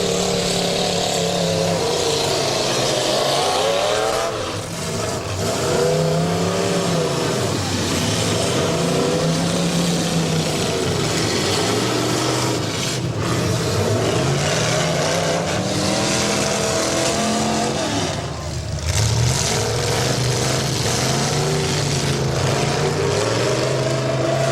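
A derby car's engine revs hard and roars down the track at a county derby event, with loud, continuous engine noise rising and falling in pitch as it accelerates and shifts, close and dominant for the whole stretch.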